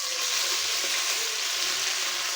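Onions frying to a golden brown in a wok for a hilsa fish curry, giving a loud, steady, dense sizzle that runs unbroken from start to end with no voices.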